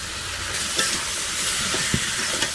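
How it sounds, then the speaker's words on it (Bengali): Potato and green plantain are stir-fried with turmeric and salt, making a dense sizzle throughout with occasional scraping knocks of the spatula and no talk. "আলু কলাটা ভালো করে কষিয়ে নিচ্ছে"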